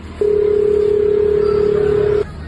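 A telephone line sounds during a call to a number that is no longer active: a single steady electronic tone holds for about two seconds, clear and fairly loud, over faint room noise.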